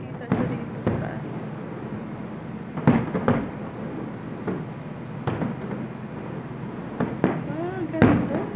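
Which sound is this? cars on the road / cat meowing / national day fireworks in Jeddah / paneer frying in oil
national day fireworks in Jeddah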